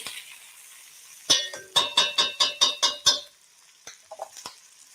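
A soupy stew of blood sausage and chorizo in a pot, with a utensil gently lifting the contents and knocking the rim in a quick run of about eight metallic clinks, then a few softer taps, close up.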